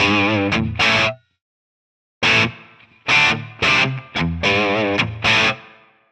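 Distorted electric guitar played through a Tonex amp preset with reverb switched off, loud choppy chords and short riffs cutting off dry, with a full second of silence between bursts and no voices.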